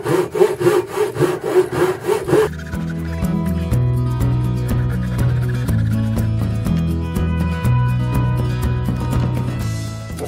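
A hand saw cuts wood for a small wooden box, with rapid rhythmic strokes at first, then a steadier rasping cut, close and loud, with no talking.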